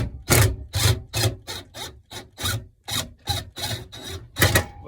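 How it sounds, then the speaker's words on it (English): A wrench backs a bolt out of a cross nut, giving about a dozen close, loud rasping ratchet strokes in a steady rhythm, each a short burst separated by brief gaps, with no talking. "Now I'm just going to back out my bolt."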